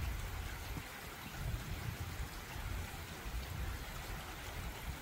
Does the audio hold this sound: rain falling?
yes